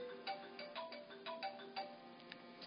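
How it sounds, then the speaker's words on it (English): Mobile phone ringtone chiming in a repeating melodic pattern of bright tonal notes, moderately loud and close, playing alone with no talk. "Sorry, my phone's going off."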